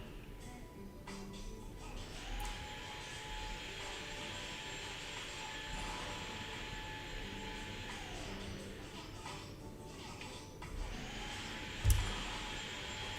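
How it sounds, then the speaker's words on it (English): A vacuum cleaner runs steadily in a room downstairs, a continuous muffled whooshing hum with a faint whine, at moderate distance, with a brief louder bump near the end. "Hopefully the vacuum isn't too loud."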